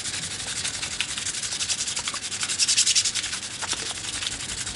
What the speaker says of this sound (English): with the 220 grit and get rid of this corner here that's sharp on your lip